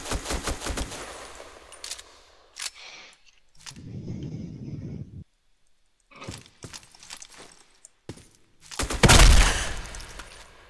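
Gunfire in the online shooter Black Squad, with bursts of sharp shots early on, scattered later cracks, and a loud close burst near the end, amid game effects and no talk.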